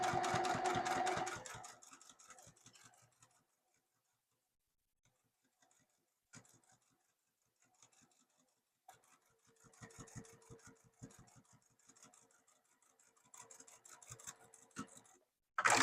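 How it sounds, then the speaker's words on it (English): A sewing machine top-stitches a flap in short, quiet bursts of rapid ticking stitches separated by pauses, with a louder burst at the start and another at the end. "The next round of top stitching is going to come right up this arm and across the flap and down the opposite side of the arm."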